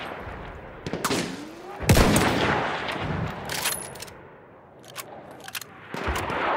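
Submachine gun fire in the Battlefield 1 Fort De Vaux battle, scattered sharp shots and short bursts with rumbling impacts between them, loud and near amid chaotic wartime noise.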